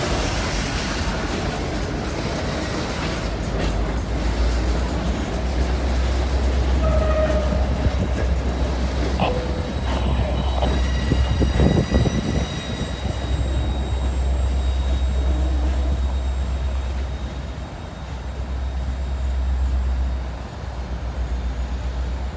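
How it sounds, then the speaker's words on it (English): A railroad train with a caboose switches cars, a loud, continuous rumble of rolling wagons and a deep engine drone, with squeals and clanks rising mid-pass before the noise eases. "They're going out to the main track, then they gotta shove back towards their yard."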